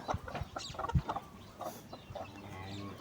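Several chickens at a farm feeding spot cluck in quick, irregular bursts close by, scrambling for fallen cattle feed near a calf, with no voices.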